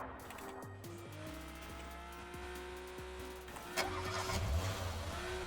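A car in PUBG starts its engine with a rising mid-pitched roar, then drives off, revving through gear changes and growing louder near the end, with no talking.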